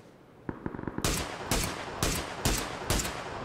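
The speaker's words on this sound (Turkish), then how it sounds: "Silah sesi alıyorum daha doğrusu." Gunfire in the battle-royale game PUBG on the Sanhok map: a quick run of light pops, then five loud, evenly spaced heavy shots about half a second apart, close and sharp, with no talk over them.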